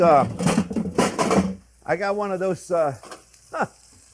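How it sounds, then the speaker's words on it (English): Sun-dried tomatoes splatter and sizzle in a hot pan, a crackling hiss in short bursts during the first second and a half, followed by someone talking over fainter frying. "this thing is splattering everywhere"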